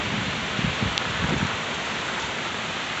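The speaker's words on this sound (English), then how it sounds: "The storm is right on us at the moment." Heavy thunderstorm rain hisses steadily as a dense, even wash, with a few soft low thumps early on, probably gusts, and no talking.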